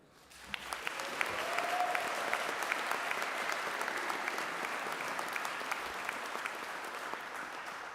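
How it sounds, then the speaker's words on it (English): Sustained, dense applause from a large audience at a university graduation ceremony, building quickly and holding steady as a continuous roll of many hands. "let's have a round of applause for all our successes"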